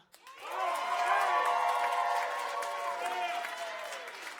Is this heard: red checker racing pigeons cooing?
no